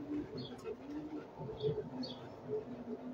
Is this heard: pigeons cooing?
yes